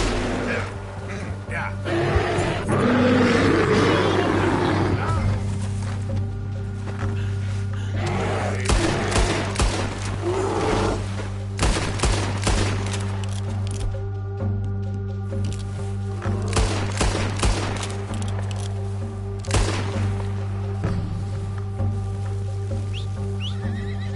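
Video game gunfire cracks out in scattered sharp shots and short bursts, mixed with a horse whinnying, hoofbeats and a low steady hum, while people talk over parts of it.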